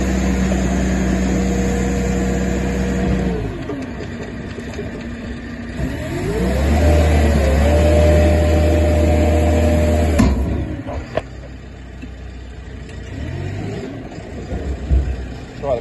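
A site dumper's engine runs during a test drive at a machinery auction, idling then revving up and settling back, loud and close, with a sharp clunk near the end and quieter running afterward.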